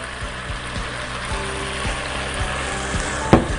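Water poured into a hot pot of apples sizzles steadily in a home kitchen, with a dense hiss and a low rhythmic bubbling pulse, then a brief sharp clink near the end.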